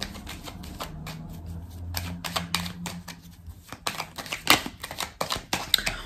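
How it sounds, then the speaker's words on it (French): Tarot cards are handled and shuffled at close range, giving a steady stream of crisp clicks, taps and papery rustles that grow busier and sharper toward the end. "On va recouvrir certaines cartes"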